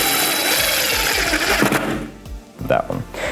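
A power drill drives screws into climbing wall panels mounted on studs, its motor whirring in short repeated bursts that wind up and stop, loud and close.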